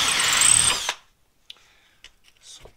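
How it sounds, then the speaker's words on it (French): A power drill re-drills a hole to 5 mm for tapping while the front end of a Honda Civic Type R EP3 is taken apart. It gives a loud, close whine for about a second, then stops, leaving faint clicks and handling noises. "Donc celui-là on va le repercer à 5 tout de suite."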